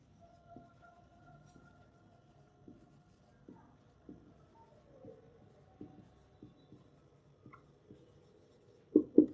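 Marker or chalk writing on a classroom board during an English grammar lesson: a series of soft, regular taps and short strokes, fairly faint, with no talk, ending in two louder knocks.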